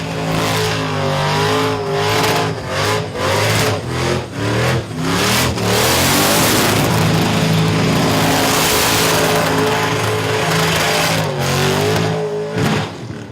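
A 1980 one-tonner with a 406 small-block Chevy V8 revs hard while doing burnouts at Autofest, with a loud, continuous engine roar that rises and falls through repeated throttle blips.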